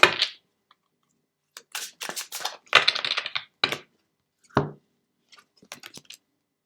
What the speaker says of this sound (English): So, right, Jean Marie, I just feel I want to shuffle these again.